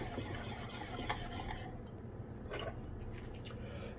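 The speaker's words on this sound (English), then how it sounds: "So you add a little bit of sugar, you mix it up" A spoon stirs sugar into a white sauce for halal chicken and rice, making faint, soft scraping and swishing sounds in a bowl against a low, steady background hum.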